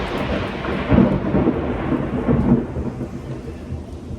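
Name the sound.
loud thunder close by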